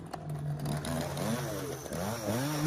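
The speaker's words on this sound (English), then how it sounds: "my dad is back there running the chainsaw" A chainsaw runs outdoors behind someone testing a Jabra Evolve headset mic, its engine droning steadily and rising and falling in pitch as it revs, moderately loud throughout.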